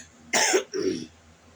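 Two quick coughs from one person, close and fairly clear: a sharp first burst, then a softer, throatier second one, with quiet room tone around them.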